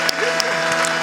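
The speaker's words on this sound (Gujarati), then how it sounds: "આ બધાને એક વખત જોરદાર તાળીઓથી વધાવો." At a Gujarati stand-up comedy show, a live audience bursts into a short round of clapping, with a faint tonal hum underneath.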